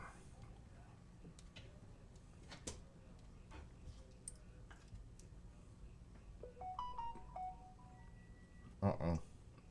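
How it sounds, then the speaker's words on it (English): A phone number is keyed in as a short run of stepped keypad tones, faint and close, over a quiet room with some talking and ticking around it. "Let me call her on the phone."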